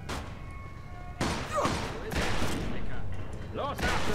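Gunfire in the Mafia 2 video game: bursts of shots crack out after a quiet start, dense and loud, with game characters' voices shouting among them.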